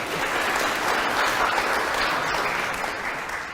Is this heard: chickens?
no